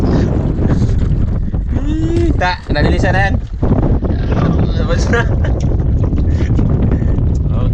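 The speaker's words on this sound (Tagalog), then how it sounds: "Lakas na naman ang hangin mga katangay." Strong wind at sea roars steadily around a small fishing boat as rain threatens, loud and close, with voices talking over it partway through.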